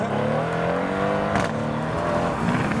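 A supercar accelerates hard away from a car show, its engine note climbing steadily and loud as it passes close, with a sharp blip of revs near the middle.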